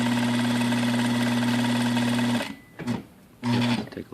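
A Juki DDL series industrial lockstitch sewing machine runs in a steady, even whirring hum for a couple of seconds, stops, then gives two short bursts of stitching.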